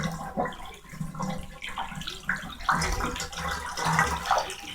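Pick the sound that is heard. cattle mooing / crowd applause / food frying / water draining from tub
water draining from tub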